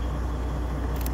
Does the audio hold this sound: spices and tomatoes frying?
no